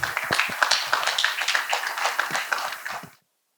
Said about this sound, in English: with your thunderous round of applause, please welcome Mr.